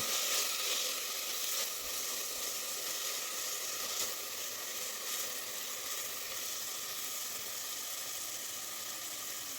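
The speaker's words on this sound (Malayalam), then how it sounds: "എല്ലാം കൂടി ഒന്ന് വഴറ്റിയെടുക്കാം." Continuous loud sizzling and hissing of vegetables sautéing over full flame in a pressure cooker, steady throughout with no voices.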